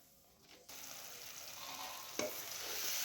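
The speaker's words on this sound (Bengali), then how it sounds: "আমার নারকেল কোড়াটি প্রায় ভাজা ভাজা হয়ে এসছে।" Grated coconut with jaggery fries in a pan, a steady close sizzle that swells as it is stirred, with one sharp clink of the spoon against the pan.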